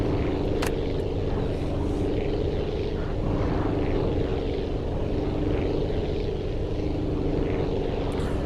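Small propeller planes in the flying game Aviassembly drone steadily at close range, a continuous low engine hum with layered harmonics that holds level throughout, with no talk over it.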